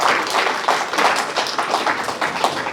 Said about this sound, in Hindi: तो इनके लिए एक बार तालियां होनी चाहिए